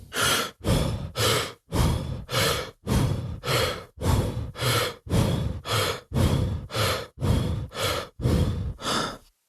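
Fast, even breathing at about 60 breaths per minute, about sixteen sharp breaths in quick succession, each a loud airy burst separated by brief gaps, close to the listener with no talking.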